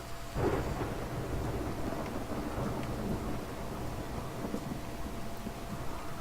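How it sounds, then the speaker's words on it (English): Thunder from a lightning strike in the video game Rimworld (Alpha 16) rolls as a deep, steady rumble. A rain-like wash continues for the whole stretch, with one stronger swell near the beginning. "It's a well-timed lightning strike after that statement."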